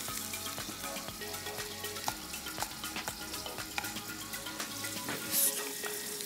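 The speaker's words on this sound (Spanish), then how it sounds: "Vamos a mover acá un poco nuestro espagueti, que baje." Spaghetti fries with onion in a pan, a close, steady sizzle and crackle while a utensil stirs it, with soft scraping and tapping against the pan throughout.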